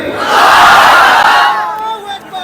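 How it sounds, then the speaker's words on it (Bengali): A large crowd at an open-air Islamic sermon in Shibganj, Bogura roars a loud collective takbir chant, a sustained massed shout that swells and then fades with a few trailing voices. "সবাই একটা তাকবীর দিই বিরতির জন্য"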